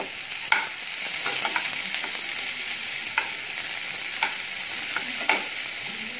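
Sliced onions fry in a pan with cumin and a bay leaf: a steady, bright hiss of sizzling oil broken by a few light stirring scrapes.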